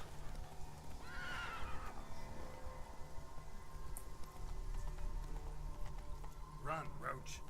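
Roach, the horse in the video game The Witcher 3, neighs sharply twice over a steady backdrop of hoofbeats at a run, with faint game sounds behind.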